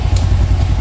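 A Honda RS125 motorcycle engine idling steadily up close, a low even rumble with no talking over it.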